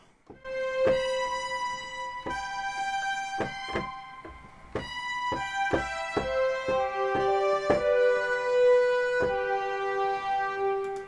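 Sustained high orchestral string notes play a slow melodic line, layered and swelling, with no voices.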